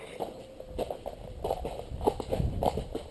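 A horse canters on ground in a rhythmic, repeating beat of hoofbeats at close range, each stride a cluster of thuds, with no talk over it.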